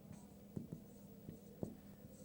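A maths formula is written on a board with a few faint, intermittent scratches and taps from strokes, quiet and close with no talk.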